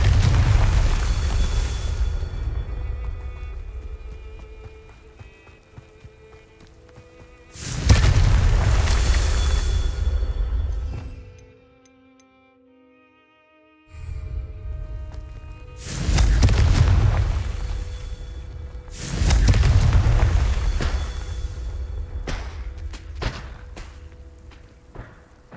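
Confringo fire spells exploding in Hogwarts Legacy on PS5: several loud, deep booms with rumbling tails, in bursts separated by a brief quiet gap.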